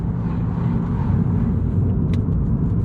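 A Toyota GR Yaris engine feathers the throttle in a steady, loud, close rumble with no pronounced revving peaks.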